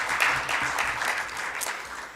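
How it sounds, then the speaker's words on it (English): A short burst of audience applause at a women's event, moderate, scattered clapping that fades within a couple of seconds. "Clap of hands"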